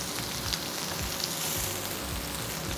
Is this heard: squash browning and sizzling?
yes